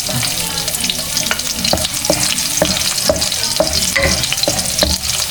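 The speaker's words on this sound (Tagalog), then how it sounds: "At ayan po, bali ilalagay ko na po itong aking bawang." Garlic sizzles steadily in a hot pan while a wooden ladle stirs it, with repeated scraping clicks over continuous close frying.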